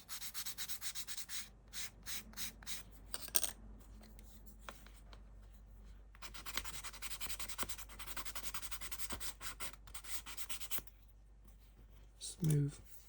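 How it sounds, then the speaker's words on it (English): Wooden model house parts being sanded by hand, with soft, close rubbing strokes in short repeated bursts, interspersed with quiet pauses and some talking. "Let's give them a little sand."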